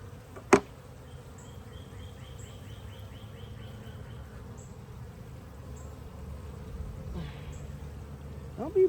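Honey bees buzz around a backyard beehive after a week of heavy rain, a steady close hum with one sharp click near the start and a few individual bees droning past.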